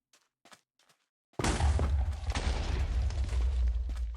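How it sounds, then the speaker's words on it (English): A bomb goes off in a Minecraft Slugterra mod game, a sudden loud boom that lingers as a rumbling, crackling blast after a second of near silence with a few faint clicks. "It will explode soon, in a second now."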